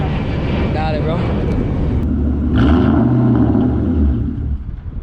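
A straight-piped 2001 Cobra engine rumbles loudly at close range on a test drive, its tone swelling in a rising rev midway before settling, with voices talking over it.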